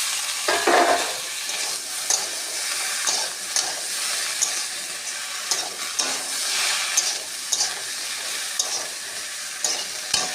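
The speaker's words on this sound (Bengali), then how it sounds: "আলু ভাজা ভাজা হয়েছে এবার ভেন্ডিগুলো দিয়ে দিচ্ছি" Okra and potatoes frying in a pan for a curry, with steady broadband sizzling and hiss, punctuated by repeated scraping stir strokes of a spatula against the pan, close and continuous with no talk.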